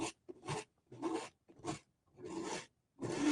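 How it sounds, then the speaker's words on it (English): Sandpaper rubbed along the edge of a decoupage lantern, five or six short rasping strokes in an even back-and-forth rhythm with brief pauses, close and quiet, no voices. "this is the one I need to sand just a little bit, right along this edge"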